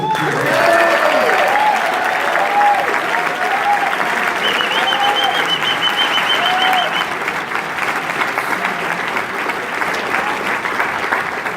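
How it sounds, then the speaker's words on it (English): A crowd applauds and cheers a panel at a voting rally, sustained loud clapping with whoops and raised voices running throughout, staying strong to the end. "let's give the panel another cheer."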